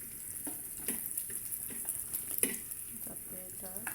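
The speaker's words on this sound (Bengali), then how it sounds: "তারপর রসুনগুলো সুন্দর করে ব্রাউন কালার করে নিব" Garlic fries in a pan until browned, giving a soft, steady sizzle with faint clinks and stirring, quiet and close.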